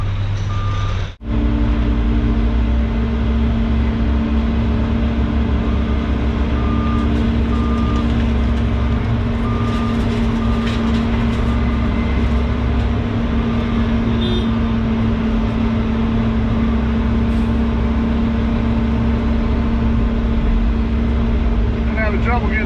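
A logging truck with reversing beeps as a Volvo 140 loader fills it with bark: steady heavy engine rumble throughout, loud and close, with regular high beeps through the middle and faint voices now and then.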